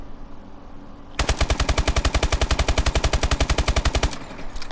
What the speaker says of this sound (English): this is how the normal ASM1 fires with rapid fire